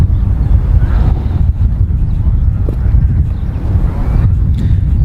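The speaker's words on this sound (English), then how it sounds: "now you can start to hear that wind ripping" Strong wind buffets and roars across an open disc golf course, a dense, continuous rumble pressing on the microphone throughout with no letup, loud and close.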